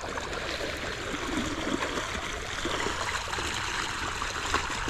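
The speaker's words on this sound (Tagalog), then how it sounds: "Ayan, pumasok yung tubig dito." Irrigation water overflowing into a field planted with eggplants, a steady broadband rush and trickle of flowing water, continuous and fairly close throughout, with no voices.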